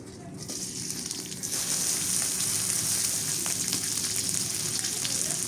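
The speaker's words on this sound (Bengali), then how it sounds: "লাল শাক ভাজি করি এখন। কাঁচামরিচ আর রসুন দিয়ে দিই।" Red amaranth greens fry with green chilli and garlic in a hot pan, giving a steady, close, dense sizzle that swells louder after a moment and holds without talk.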